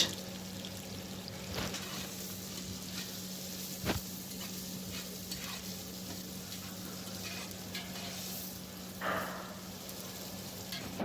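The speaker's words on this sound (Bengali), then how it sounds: "তারপরে দিয়ে দেবো পেঁয়াজ কিছুক্ষণ নেড়ে নেব" Onions frying in a pan while being stirred, a soft steady sizzle with occasional scrapes and knocks of the spoon against the pan, fairly quiet and without speech.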